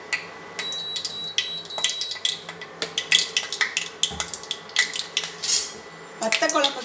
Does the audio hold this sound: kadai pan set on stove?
yes